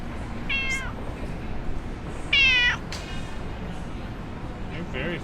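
A street cat in Bonifacio Global City, Manila, meowing close by in three short calls, the middle one loudest, over faint ambient background noise.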